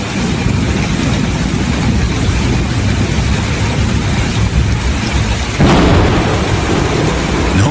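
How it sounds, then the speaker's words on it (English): Heavy thunder rumbles continuously through a hurricane, with loud booming and steady rain hiss throughout, and a sharper surge of crashing noise near the end. "causing the sky to seem to explode under deafening lightning and thunder"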